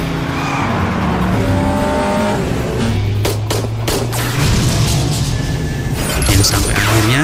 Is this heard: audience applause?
no